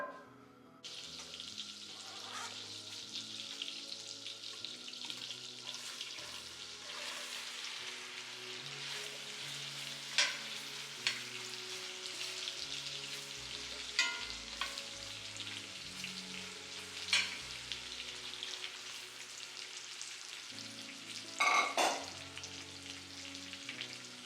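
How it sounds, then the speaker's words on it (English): Apple slices sauté in a stick of butter in an iron skillet, a steady broad sizzle running throughout with a few sharper clinks and stirring scrapes, close and alone with no talking. "Now I'm going to saute the apples in my iron skillet with a stick of butter."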